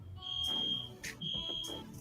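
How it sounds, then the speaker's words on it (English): Building fire alarm sounding in an old building in Detroit: two loud, steady high-pitched electronic tones, each lasting roughly half a second, separated by a short gap, over a low background hum. "Do you hear the alarm in the background?"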